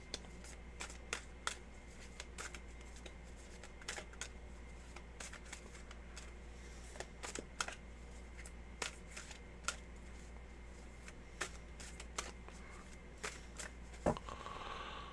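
Tarot cards are shuffled by hand in a quiet room, with crisp riffles and short flutters repeating in irregular bursts close to the microphone.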